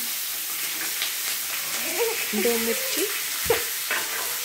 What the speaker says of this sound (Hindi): थोड़ा फ्राई करेंगे।